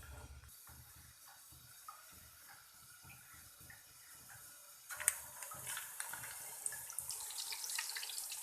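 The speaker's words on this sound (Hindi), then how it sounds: "ये सारे कोफ्ते हमने घी में डाल दिए हैं फ्राई होने के लिए।" Mutton koftas fry in hot ghee over a medium flame with a faint, hissy sizzle and scattered crackles that grow louder and busier partway through.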